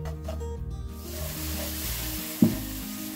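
Roasted semolina being stirred as milk is poured in a little at a time for gulab jamun, with steady sizzling and stirring scrapes throughout and one sharp knock near the end.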